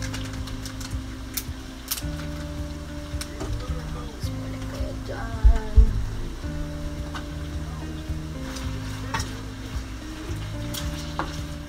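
Ground beef sizzles and fries steadily in a pot, a continuous close crackle with brief stirring knocks near the middle and a low hum underneath.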